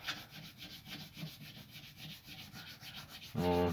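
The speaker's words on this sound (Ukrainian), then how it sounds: "І нам треба його трішечки пройтися наждачкою" A wooden knife handle is rubbed with sandpaper in steady, rhythmic back-and-forth strokes, close and fairly soft, with a brief louder, tonal noise at the very end.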